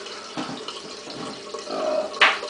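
Tap water runs for rinsing during a shave, a steady soft splashing stream close by, with a brighter splash near the end.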